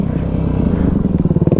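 A supermoto motorcycle braking hard into a stoppie, its engine note pulsing loud and close in a rough, uneven burble for the whole stretch, with a light scraping clatter near the end.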